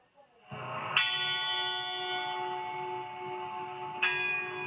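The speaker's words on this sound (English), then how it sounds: "the bells of Notre Dame ringing again." Notre Dame cathedral bells ringing, two resonant strikes a few seconds apart with long sustained, shimmering tones, moderately loud and alone.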